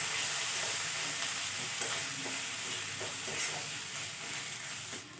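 Tomato with turmeric, cumin, coriander and Kashmiri red chilli powder frying in a pan for a jackfruit and egg curry, sizzling steadily while a spoon stirs with soft scraping strokes, close and continuous.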